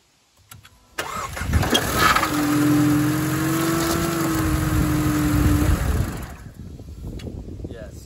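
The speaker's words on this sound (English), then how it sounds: "What if I turn the engine on?" A Mercedes CLK engine cranks and fires up after a second of quiet, revving briefly and then settling into a steady idle before cutting off, with a faint voice afterward.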